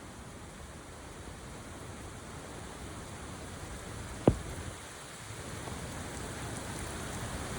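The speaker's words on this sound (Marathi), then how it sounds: "आता भयानक पाऊस चालू झालाय" Heavy rain pours down during a trek to Kalu Waterfall, a dense, constant roaring hiss broken once by a single sharp knock.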